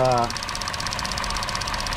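A Chevrolet Sonic engine idles steadily with an even, rapid mechanical ticking and hum, close and moderately loud, with no talking.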